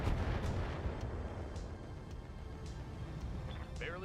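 Turrets firing in the BattleTech video game: a heavy, booming artillery-like blast opens, then a rumbling decay with fainter follow-up shots, while voices talk over it.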